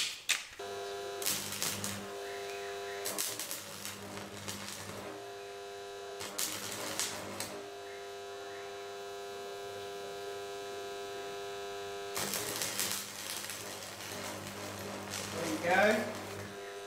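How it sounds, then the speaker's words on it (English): A stick welder arcs on practice pieces in a home garage, crackling and buzzing in several bursts separated by pauses, close and fairly loud over a steady electrical hum, with brief talk near the end. "get this welder, which is a stick welder"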